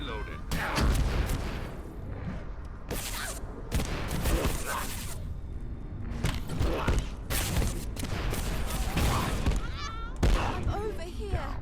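Enemy Gatling gun fire in the Abiotic Factor video game, repeated rattling bursts and booming impacts over about twelve seconds, mixed with mechanical clanks and a player talking over it.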